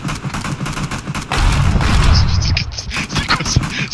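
Bursts of rapid gunfire rattle through a PlayerUnknown's Battlegrounds match, loud and close, with repeated sharp shots over a few seconds and voices talking underneath.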